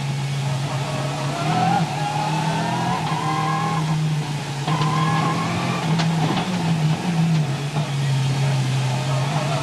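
Freddy Loix's rally car races through a special stage, its engine droning and shifting pitch as it accelerates and eases off. A commentator talks over it throughout.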